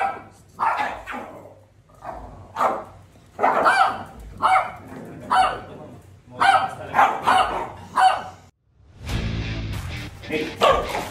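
A small, aggressive dog barks repeatedly up close, sharp single and doubled barks spaced out in an irregular rhythm, followed by a brief rustling scuffle and more barking.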